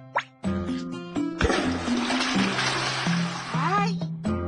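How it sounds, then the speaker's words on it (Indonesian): A cartoon toilet flushes with a gurgling rush of water that swells after a short tonal cue and drains off over a few seconds, mixed with bright musical sound effects. "Jangan lupa untuk menyiram toiletnya."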